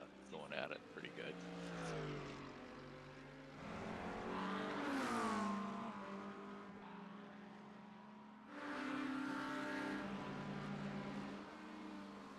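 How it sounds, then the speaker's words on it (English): GT3 race cars, including a Mercedes, battle on a circuit during a night race, their engines droning and rising in pitch as they pass, with commentary talking over the track noise throughout. "Schartzer able to get by in the Mercedes."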